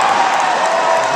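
Crowd at a political rally roars and cheers in a steady, dense wash of voices throughout, loud and continuous with no single voice standing out.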